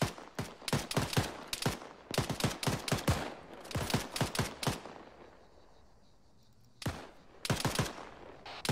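Rapid, loud bursts of automatic rifle fire in the Arma 3 video game, with a volley of shots, a short lull, then more shots.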